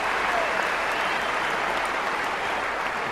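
A Wimbledon tennis crowd applauds steadily, a dense, even clapping roar from start to finish at a women's singles match.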